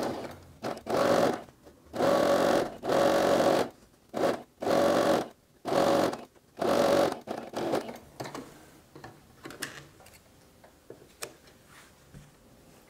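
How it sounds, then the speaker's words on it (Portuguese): A sewing machine stitches a fabric dish towel holder in six or seven loud, steady bursts of fast running stitches separated by short pauses, then gives way to quieter handling and rustling of the fabric. "Vamos lá, passar esse pezinho de máquina aqui."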